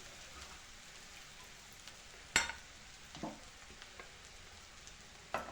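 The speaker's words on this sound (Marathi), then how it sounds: "हे छान असं परतून घ्यायचं" Bitter gourd being stirred in a pan with ground niger seed and sesame masala, a soft steady sizzle broken by a few sharp spoon scrapes and clinks against the pan, close by with no talking.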